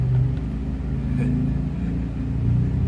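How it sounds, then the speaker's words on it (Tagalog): Traffic rumbles past on a highway outside a shop, a continuous low engine drone from passing vehicles with a faint rise as one accelerates, heard at a moderate distance. "baka may naririnig kayong mga motor, sasakyan"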